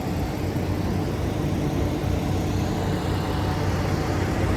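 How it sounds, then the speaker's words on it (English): Low, steady engine rumble heard from inside a moving truck's cab, a loud, unbroken drone with road noise and no talking. "This is the truck I'm riding in."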